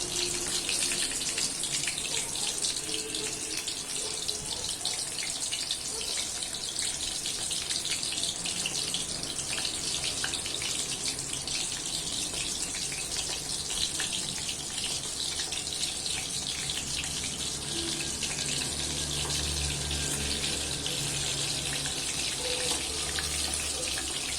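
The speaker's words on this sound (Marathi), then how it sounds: "सोया चंक्स यात घालायचे। तेल छान गरम करून घ्यायचं आपल्याला।" Soya chunks frying in hot oil give a steady, continuous sizzle and crackle, close and even in loudness from start to finish.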